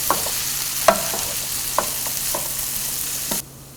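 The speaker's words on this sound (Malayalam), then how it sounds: "ഇടയ്ക്കിടയ്ക്കൊന്ന് ഇളക്കി കൊടുക്കണം." Jackfruit seeds being stir-fried for chakkakuru mezhukkupuratti give a steady soft sizzle in the pan, broken by a few sharp spatula clicks and scrapes as they are stirred now and then.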